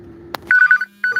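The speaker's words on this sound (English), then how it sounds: "All the phones ringing." Phones ring close by in short bursts of electronic trilling, two clusters of ringtone pulses after a brief click, with no speech.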